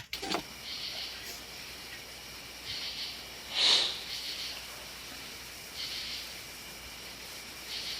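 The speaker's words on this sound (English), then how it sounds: "That was me sniffling" Quiet hissy sniffs recur every second or two against a steady background hum, with one sharper, louder sniff in the middle.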